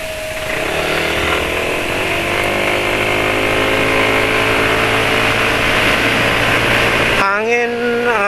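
A Yamaha NMAX motor scooter engine revs loudly and steadily, its pitch climbing and holding, then dropping abruptly near the end.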